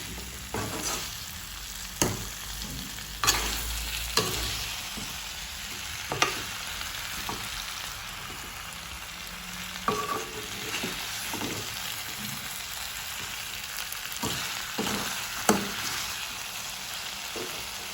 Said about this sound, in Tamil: சேர்த்துட்டு வடிவாக எல்லாத்தையுமே போட்டு வடிவாக மிக்ஸ் பண்ணணும்.